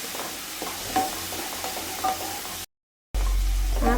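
Curry leaves sautéing in a pan for chicken curry, with a steady sizzle and intermittent stirring scrapes, close and continuous, briefly cut to silence before the frying resumes.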